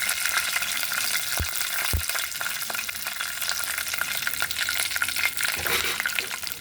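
Mustard seeds fry in hot oil for foxtail millet upma, a dense close crackle and hiss with a couple of brief low thumps and scattered pops.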